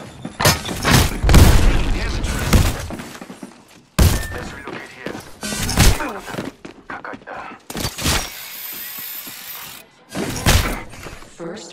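Grenade explosions and heavy thuds in the Apex Legends battle royale, loud booming bursts amid gunfire and game effects, with players shouting over the action.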